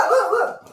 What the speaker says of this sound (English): You got all the dogs here excited too.